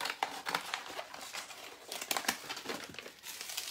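Scissors cutting through tape, with crisp crinkling snips repeating unevenly at close range, soft but distinct, and no voices.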